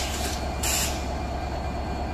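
The Madhumati Express 756 Down intercity train departs Ishwardi Junction. A steady, loud low rumble fills the clip, broken by a brief hissing burst of air, and no one speaks.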